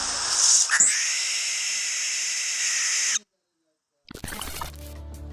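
Barn owl screech, a long, harsh, hissing shriek lasting about three seconds, followed by a short silence and then a burst of other sound.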